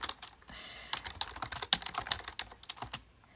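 Computer keyboard keys clatter in quick irregular bursts of taps, close and crisp, with short pauses between runs, during a live weather-diary session.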